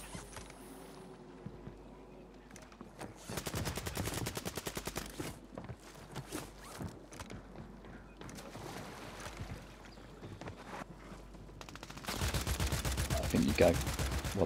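Rapid bursts of automatic gunfire in a first-person shooter video game, a duos match, crackling in dense clusters with short pauses, loud and close, ending in a sustained heavy volley, with people talking at moments.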